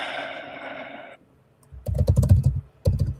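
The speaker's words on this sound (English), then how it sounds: "I hear you pounding on the keyboard or something." Computer keyboard keys pounded in quick, uneven bursts of clacking after a stretch of background hum, heard on a remote call line, fairly close and moderately loud.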